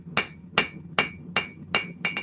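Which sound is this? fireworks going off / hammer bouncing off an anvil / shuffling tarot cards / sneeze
hammer bouncing off an anvil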